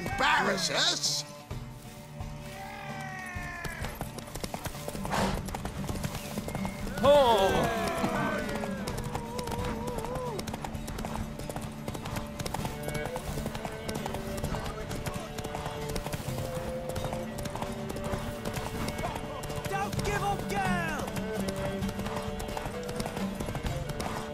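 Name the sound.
horse galloping in a race in video game Witcher 3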